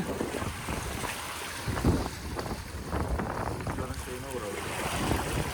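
Steady lodos wind rushes and buffets the microphone over lapping water and boat noise while fishing, with faint voices now and then.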